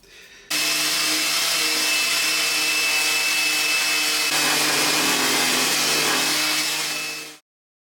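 A power sander with 120 grit paper taking the old finish off a 1950s oak chair, running as a loud, steady whine and hiss close up for about seven seconds before spinning down.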